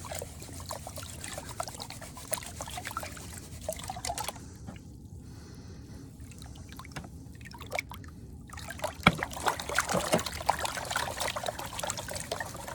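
Water sloshing and trickling in a small wash tub as ore is panned outdoors, a steady wet churning close by that briefly eases before picking up again.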